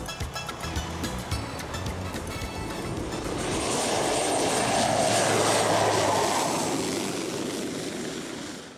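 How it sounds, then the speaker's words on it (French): Low-flying propeller airplane passing close over narrow winding concrete roads on Saint-Barthélemy, its engine roar swelling from a distant hum to a loud, sustained pass over the middle of the clip and then easing off. "les avions bien souvent cherchent à se mêler au trafic"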